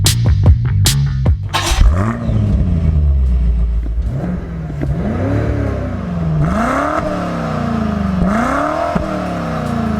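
A new all-wheel-drive BMW M5 with a 4.4-liter twin-turbo hot-V V8 accelerates hard at full throttle, revving loudly and climbing through several gears with distinct upshift dips, steady and close with no talking.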